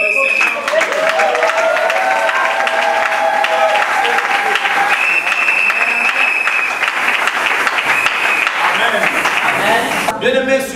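A church congregation applauds and acclaims the Lord in a dense, continuous wash of clapping that lasts throughout, with raised voices and cheering mixed into the crowd noise.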